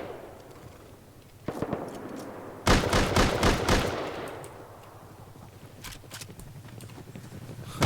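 Gunfire in the game Rust on a PvE server: a rapid volley of sharp, loud shots packed into about a second, a few isolated pops before and after, over a low background rumble.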